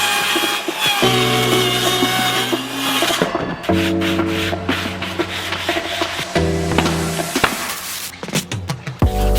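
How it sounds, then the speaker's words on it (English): Stubborn bolt on a forge part being cut through, a harsh rhythmic grinding and sawing that comes in several long passes with brief pauses, loud and close, no talking. "we definitely got to cut and re-weld that bolt"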